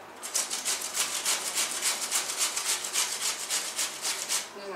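A cucumber is rubbed down a kitchen grater in quick, steady strokes, making a close, even rasping rhythm of about fourteen scrapes with no talking over it.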